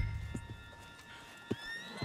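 A horse in Red Dead Redemption 2 snorts and stirs with a few short hoof clops and a brief whinny-like rise, fairly quiet over low game ambience, with no talk.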